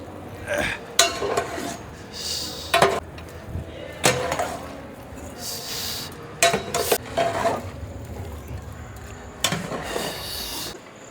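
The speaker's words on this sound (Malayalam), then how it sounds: "നമുക്കിത് നന്നായിട്ടൊന്ന് മിക്സ് ചെയ്യാം." Beef is being stirred and mixed with spices and coconut oil in a large pot, giving intermittent metallic scrapes and clanks of a utensil against the vessel, loud and spaced irregularly across the stretch.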